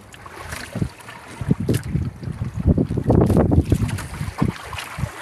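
A small boat pitches on rough sea in heavy wind, with repeated bursts of wave slaps and splashes against the hull and gusty wind buffeting the microphone, loud and close throughout.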